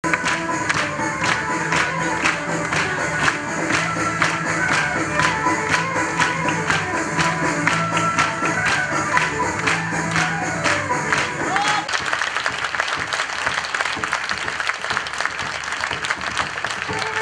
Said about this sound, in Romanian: a stârnit ropote de aplauze și a ridicat în picioare publicul prezent la premieră